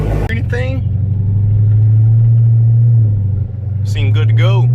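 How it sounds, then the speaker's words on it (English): Car engine idling and revving on a test spin, a loud steady low rumble that holds for several seconds with brief voices at the start and end. "I'm gonna take it for a spin, come right back, and then see where we're at."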